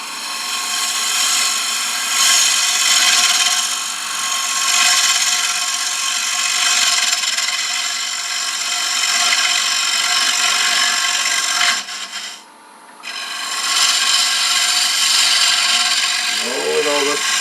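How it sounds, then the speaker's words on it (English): A bowl gouge cuts into the base of a bead on a wooden paten spinning on a lathe, a loud continuous shearing hiss over motor hum that dips briefly near the end before resuming. "Now I'm going to come in with my bowl gouge and I'm going to cut into the base of that bead, just concave into it very slightly."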